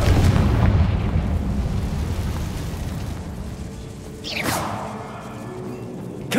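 A Confringo fire spell goes off as an explosion in the game Hogwarts Legacy, opening with a deep, loud rumbling boom that fades, followed by a rising whoosh and a second softer blast.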